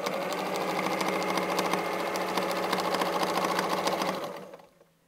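A sewing machine stitches continuously during free-motion quilting of a basket motif, a fast, steady mechanical chatter close up that runs for about four seconds before slowing and stopping.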